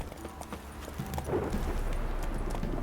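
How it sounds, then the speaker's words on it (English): Horse hooves clip-clopping at a steady galloping rhythm in The Witcher 3: Wild Hunt, a PC game played on Death March difficulty, heard alone with a low background hum. "Let's get on our horse really quick."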